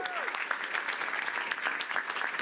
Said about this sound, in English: Let's hear a round of applause for this exciting morning.